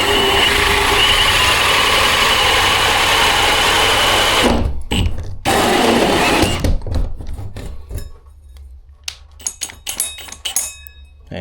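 A power drill fitted with a hole saw grinds loudly through a ceiling while downlight holes are cut, a continuous close whine that stops abruptly, followed by clinks and scattered handling noises.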